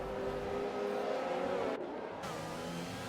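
Open-wheel F1 race cars in the RSF1 racing game drone steadily at high revs in a train of four, the engine note sustained and fairly loud with a brief shift midway.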